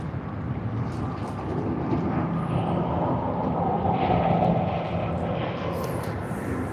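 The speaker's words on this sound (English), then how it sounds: "EK415 Emirates Sydney to Dubai service has commenced its takeoff roll." Emirates Airbus A380 on its takeoff roll at Sydney Airport for the Dubai flight, a steady loud jet engine roar heard from a distance, broad and continuous with light wind buffeting, no talk.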